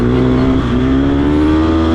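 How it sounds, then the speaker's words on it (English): An off-road motorcycle engine on a dry dirt track revs loudly and close by, a sustained, rising buzzing drone that climbs steadily in pitch over two seconds. "Revving at me again."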